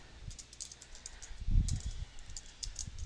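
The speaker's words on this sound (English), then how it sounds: "you can just start that by typing a note" Typing a note on a computer keyboard, a quiet, quick patter of key clicks with a brief louder thump midway, heard alone at close range.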